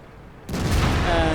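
A single loud tank cannon shot in World of Tanks that hits abruptly and then rolls into a sustained booming rumble and echo.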